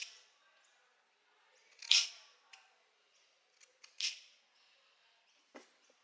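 Scissors snip through layered dress fabric to trim the excess seam allowance at the shoulder. There are a few faint, crisp cuts and clicks with quiet pauses between them.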